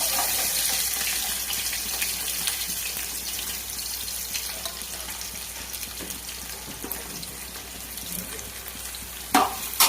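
Onions frying in oil for chicken biryani, a steady hissing sizzle with occasional light stirring knocks and a louder clatter near the end.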